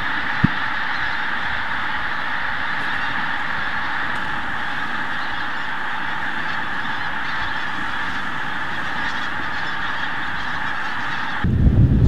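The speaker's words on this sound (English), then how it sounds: "We're at Snettisham to see the pink-footed goose spectacular, where literally thousands of these geese roost overnight" Dense flock of pink-footed geese honking continuously at daybreak at a coastal roost on the Wash, a steady loud wall of overlapping calls that shifts to a louder, closer burst at the very end.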